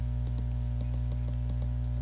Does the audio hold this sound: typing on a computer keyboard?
yes